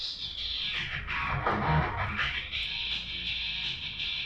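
An Airwindows audio plugin processing a signal with frequency shifting that drifts out of phase, giving a dense, hissing wash with a swirling sweep that dips and rises through the middle.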